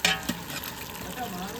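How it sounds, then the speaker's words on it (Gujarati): Whole eggplants frying in hot oil give a close, steady sizzle and crackle, with a couple of sharper spatters near the start. "તેલ ગરમ કરીને રીંગણા નાખી દીધા જો."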